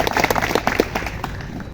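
Short burst of crowd applause welcoming a guest at a Constitution Day event at a college, brisk scattered clapping from many hands in a hall, filling the moment and fading slightly at the end.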